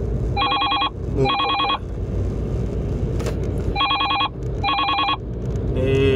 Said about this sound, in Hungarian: bocsánat, csak közben csörgött a telefonom